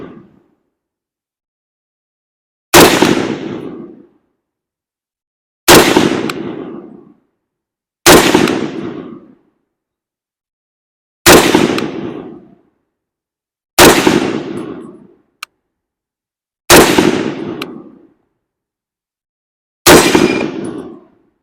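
Seven loud rifle shots from an M1 Garand fired from prone with a USGI web sling, evenly spaced a few seconds apart, each sharp crack followed by a ringing decay, with the metallic ping of the ejected clip after the final shot.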